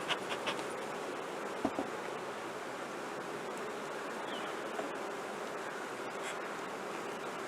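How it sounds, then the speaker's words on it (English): Faint, continuous buzzing of honey bees swarming over an opened hive during a check of honey stores, a low steady drone with a few soft knocks and bumps near the start. "these bees are just all over down here"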